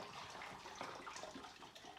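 Lukewarm water pours into a bottle in a steady, faint gurgling gush with no voices.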